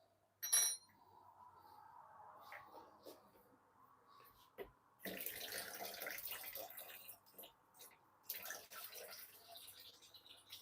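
Water runs from a tap in two bursts, a loud hissing gush splashing into a container nearby with short pauses between, preceded by a few clinks and soft handling noises.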